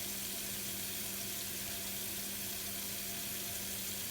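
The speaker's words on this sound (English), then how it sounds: "So I'm going to rinse this brush off and let you guys see inside of it." A makeup brush rinsed under a running tap, giving a steady, even rush of water that continues unbroken throughout, close and moderately loud, with no talking.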